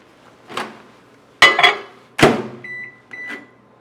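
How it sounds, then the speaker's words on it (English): Microwave oven heating butter to soften it, with a few clunks of the door and handling, then short electronic beeps near the end, fairly close and without talk. "I'm going to soften that in the microwave just enough to make a paste."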